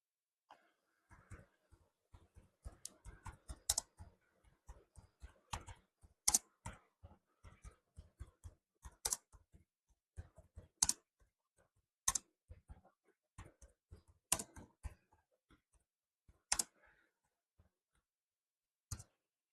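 Keys tapped on a computer keyboard in irregular bursts of sharp clicks, some harder strokes standing out, with short pauses between runs of typing in a quiet room.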